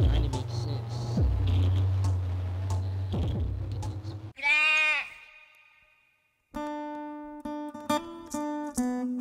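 A sheep bleats once, a wavering loud call, between a stretch of low rumbling music or noise and a burst of plinking, tonal sounds.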